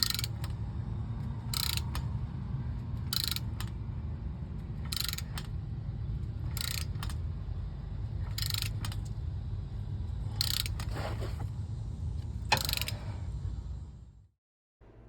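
Ratcheting clicks as a wrench tightens a shock absorber bolt on a 1988 Jeep Wagoneer, short bursts repeating roughly every second close by over a low steady hum, ending abruptly.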